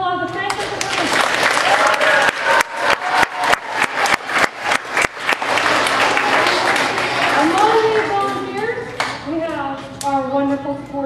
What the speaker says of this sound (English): I want you guys to give a big round of applause to thank them for coming.